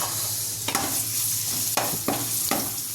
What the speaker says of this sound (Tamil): ஒரு கரண்டி எண்ணெய் ஊற்றிக்கணுங்க குழம்பு வண்டியில். இப்போ பூண்டு போட்டுக்கலாங்க